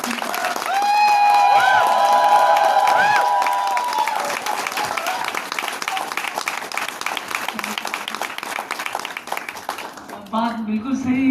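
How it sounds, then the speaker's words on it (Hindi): Seminar audience bursting into loud applause and cheering, clapping dense and sustained for several seconds before thinning out, with a speaking voice coming in at the end. "जोरदार ताली सुनिए इनके लिए।"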